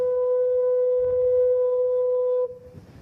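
Lizard Lighthouse foghorn in Cornwall sounding one steady, moderately distant tonal blast for about two and a half seconds, then cutting off to faint outdoor ambience.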